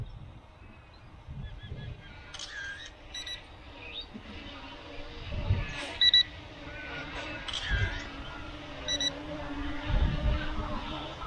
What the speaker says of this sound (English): Okay, so we've got a low voltage alarm.